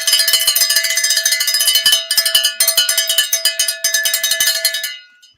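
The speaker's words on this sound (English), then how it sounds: "Oh, I got to ring the cowbell." Cowbell struck rapidly and repeatedly for about five seconds, bright and loud up close, with a steady clanking rhythm and a few brief gaps before it stops.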